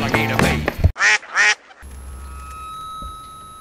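A duck quacks in two loud, nasal bursts right after a brief stretch of speech, then the scene drops to a quiet background with a faint steady tone.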